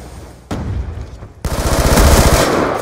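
C4 charges in Black Ops 2 multiplayer on the Meltdown map go off as loud booming blasts, a sharp hit followed by a second heavy rolling detonation that swells and sustains, with no talking.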